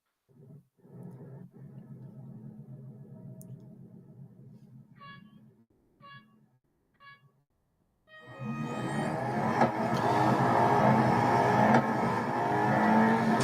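Racing car engines in the video game Real Racing 3: a steady low engine drone for about eight seconds, a brief lull with a few faint tones, then a loud, dense roar of accelerating engines that holds to the end.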